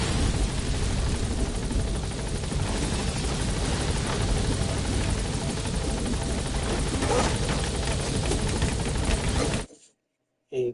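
A helicopter in Metal Gear Solid V touches down, its loud, continuous rotor roar and engine wash filling nearly ten seconds before cutting out abruptly.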